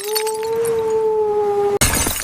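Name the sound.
glass shattering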